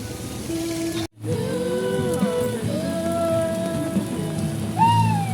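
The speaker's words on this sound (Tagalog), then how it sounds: "Grabe ulan." Steady heavy rain from a typhoon pours down throughout, a dense wash of hiss with a brief dropout near the start and faint tonal background sounds layered underneath.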